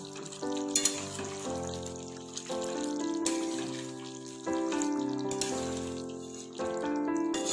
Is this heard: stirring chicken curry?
yes